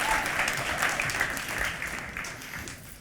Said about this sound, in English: Give a massive round of applause for Antonio as he takes a seat.